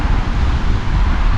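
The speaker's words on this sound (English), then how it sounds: "we're here at Ed's brother's house and it's so friggin' windy" Strong, gusty wind buffets the microphone in loud, rough low rumbles, pulsing unevenly through the short moment with no voices heard.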